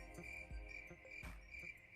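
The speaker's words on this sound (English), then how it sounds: "Crickets." Crickets chirp in a steady, faint, high-pitched pulsing trill, a quiet night-time insect sound with no voices, heard alone as a short sound effect.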